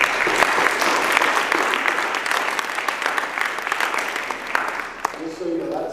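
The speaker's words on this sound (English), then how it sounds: "we'll give him a round of applause" A room at a school board trustees meeting breaks into a sustained round of applause for a student, steady and fairly loud, thinning and fading near the end.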